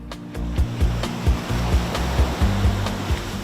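Surf on Wediombo beach in Gunungkidul, a white-sand shore ringed by coral rock hills. The roar of the waves is steady and loud, with regular soft thumps pulsing through it and no voices.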